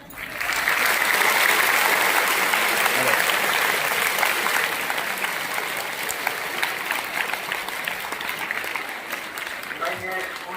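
Sustained applause from a school audience at an Independence Day program, loud and continuous clapping that fills the whole stretch and eases slightly toward the end, with a faint voice underneath.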